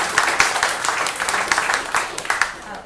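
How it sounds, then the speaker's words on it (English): Audience applause after a host introduces a guest named Erica at a party for Auntie Jean, a dense patter of clapping with some voices mixed in, steady and fairly loud for a few seconds. "Give her a big round of applause."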